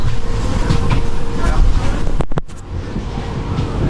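Seattle monorail train at a station with steady mechanical rumble and hum, brief sharp clicks or door thumps midway, then quieter running noise; no talk.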